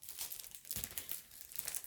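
Crinkly packaging around foil sheets for stamping crafts is opened close up, giving a quiet, continuous run of rustling, crumpling and light tearing noises with no talking.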